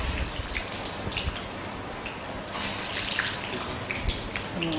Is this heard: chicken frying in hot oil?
yes